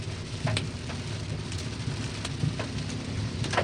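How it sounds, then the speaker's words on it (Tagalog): Rain falling on a rainy day, a dense steady patter close by with occasional louder drops striking a surface. "Maulang araw ngayon mga bay, maulang Martes."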